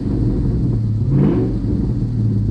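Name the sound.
2024 Ford Mustang Dark Horse engine revving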